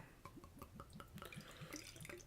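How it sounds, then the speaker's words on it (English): Beer poured hard from a pump into a small, fragile glass, a bubbly, splashy liquid run with rhythmic glugging pulses that carries on steadily at close range, no talking over it. "I'm giving this a pretty hefty pour."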